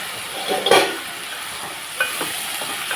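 Ivy gourd curry frying in a pan hisses steadily while a utensil stirs it, with a sharp scraping burst early on and a few lighter stirs later over the constant sizzle.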